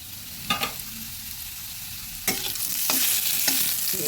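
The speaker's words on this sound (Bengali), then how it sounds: "আলুগুলো প্রায় ভাজা হয়ে গেছে এবার তুলে নেব এর মধ্যে আমি আরও বেশ কয়েকবার নেড়ে নিয়েছি" Potatoes frying in a pan with salt and turmeric, a continuous close sizzle that swells toward the end, punctuated by several sharp scraping stirs, and no one speaking.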